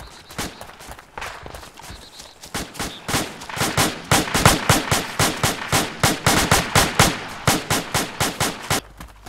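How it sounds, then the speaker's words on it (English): Gunfire from people shooting in a field game, starting with scattered shots and building into a rapid, steady burst of loud, close reports that carries on for several seconds before stopping abruptly. "People shooting at our backs."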